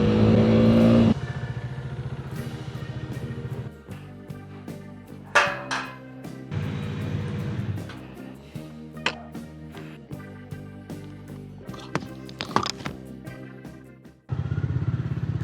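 A motorcycle on a road during a weekday commute gives a steady, close engine drone with wind rush, rising and falling as the rider shifts gears and changes speed.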